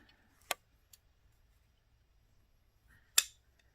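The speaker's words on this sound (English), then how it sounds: "So we're going to cut an inch and 1/8 off of the other side." Scissors cutting material make two sharp, isolated snips about two and a half seconds apart, close and crisp, with a faint tick between them in otherwise quiet surroundings.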